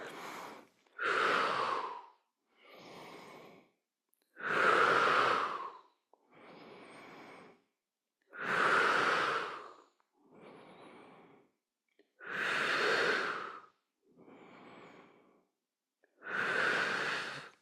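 Deep rhythmic breathing during a vagus nerve yoga practice, with strong whooshing exhales alternating with softer inhales in a steady cycle of about four seconds, close and fairly loud, with no talking.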